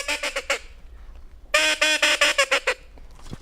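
A teal duck call blown to imitate a hen teal gives rapid, high-pitched quacking in two bursts, a short run of about four notes, a pause, then a longer fast string, loud and close.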